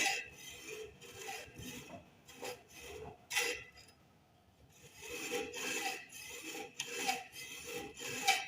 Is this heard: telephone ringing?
no